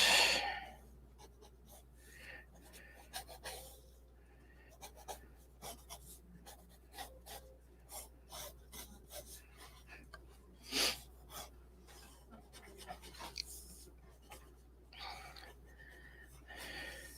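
A pencil sketching on paper, with soft intermittent scratching and rubbing strokes in irregular bursts over a quiet background hum.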